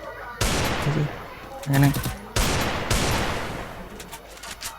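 Gunfire in the mobile game Free Fire, several sharp bursts of shots spaced a second or so apart, loud and close, with someone talking over the action.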